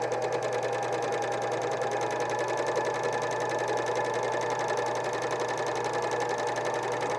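A sewing machine stitches lightweight underwear fabric, a loud, close, continuous buzzing hum at an even high speed with no breaks and no talk.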